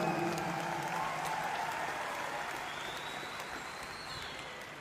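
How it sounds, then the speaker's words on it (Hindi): Audience at a direct-selling company event applauding for the MD and CEO, a loud sustained wash of many clapping hands that tapers slightly toward the end, with faint tonal music or feedback lines beneath. "हमारे एमडी एंड सीईओ श्रीमान संजीव सर के लिए भी एक जोरदार तालियां"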